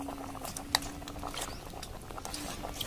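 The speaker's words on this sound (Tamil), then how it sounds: "வெல்லம் நல்லா கரைஞ்சி பொங்கல் நல்லா குழஞ்சி வெந்துட்டுருக்கு" Sweet pongal of rice and jaggery boiling in a pot, thick bubbling that pops and patters steadily up close, with a sharper click partway through.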